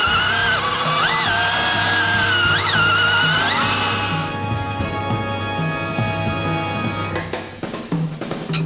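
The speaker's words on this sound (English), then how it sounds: "So this will have the torque to drill through it." A power drill whines at high pitch, rising and falling with trigger pressure, then shifts to a rougher grinding bite as it bores through solid wood.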